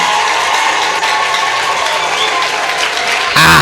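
A church congregation at a prophet's worship service breaks into loud, sustained applause, a dense wash of clapping that fills the space throughout.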